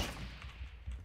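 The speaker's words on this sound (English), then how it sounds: "Who's shooting?" Distant gunfire in a multiplayer survival shooter video game, faint muffled shots against a low rumbling background, with a slightly stronger report toward the end.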